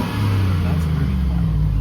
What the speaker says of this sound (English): Here's a quick rev for you guys. The valve is currently closed.